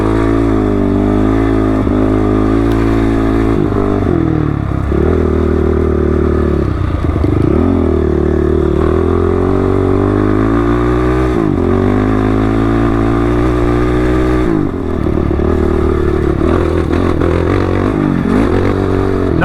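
A dirt motorcycle rides through a deep, loamy desert wash of rock and pea gravel in 100-degree heat, its loud engine droning continuously up close with repeated rises and dips in revs and rattling clatter.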